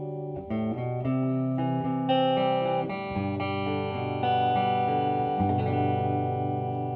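A distorted electric guitar on its neck humbucker pickup plays sustained chords and notes, loud and continuous with a warm, thick tone and a touch of effects.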